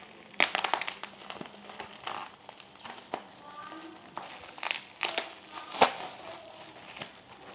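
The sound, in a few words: polythene wrapping crinkling while unboxing a digital watch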